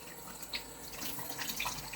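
Water trickles and splashes onto a flat coticule sharpening stone used for honing a stainless Dovo razor, a soft continuous wet hiss with a few brighter drips, close and fairly quiet.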